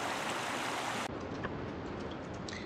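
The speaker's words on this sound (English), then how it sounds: "So we've had a break in the storms, and that's given time for the swelling of this creek to go down." A swollen creek after storms flows steadily nearby, a continuous broadband rush of water with faint trickling detail, no voices.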